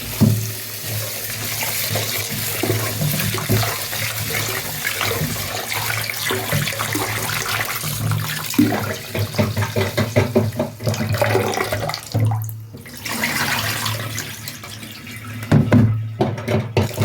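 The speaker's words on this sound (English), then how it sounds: "I have to wash my rice till it gets clean" Rice is washed under a running kitchen tap, water splashing steadily into the pot with swishing and sloshing as the grains are stirred by hand, close and continuous.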